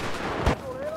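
A single SKS rifle shot in a video game, one sharp burst amid continuous game background sound.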